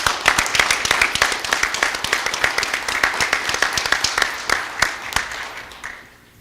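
A room of school board members stands and gives Mr. Akins a round of applause, steady clapping from a modest group with a few sharp standout claps, tapering off near the end.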